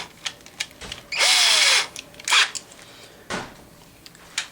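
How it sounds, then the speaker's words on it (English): An electric drill whirs in one short, loud burst, surrounded by quieter clicks and handling noises. "And then I'll put that in my electric drill."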